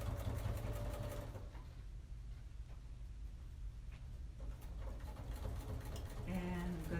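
A sewing machine back stitches a fabric face mask, running in a close, steady whir that rises and falls with the stitching.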